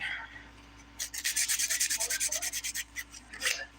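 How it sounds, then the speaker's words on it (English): A 100 grit nail file rubs back and forth over dip powder nails in quick, even strokes, a close, soft scratchy rasping in a steady rhythm, preceded by a quiet pause. "Usually I use the 180 side, but like right now I'm using the 100 grit."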